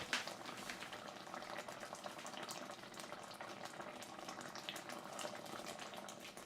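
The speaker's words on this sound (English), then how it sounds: "It is just bubbling like a cauldron." A pot of jam mixture made with liquid pectin bubbles hard at a full rolling boil, close up, with constant popping and gurgling that carries on without pause.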